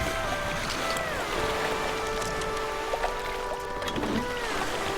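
Raft drifting on a river in the video game Flame in the Flood, a steady wash of flowing water and wind with soft creaks and tonal game sounds layered on top.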